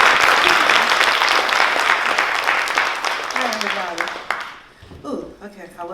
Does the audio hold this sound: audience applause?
yes